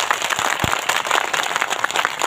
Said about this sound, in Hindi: आपके लिए दौड़ रहे ऐसे अमान सिंह तोरते के लिए कितनी तालियां बजनी चाहिए वो आपकी गड़बड़ाहट से पता चलेगा।